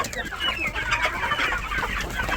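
Several black Shahzoda breed chickens cluck and murmur close by in overlapping, irregular calls, a busy flock sound with no talking.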